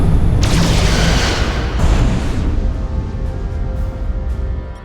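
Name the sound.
photon torpedoes fired, from video game Star Trek: Resurgence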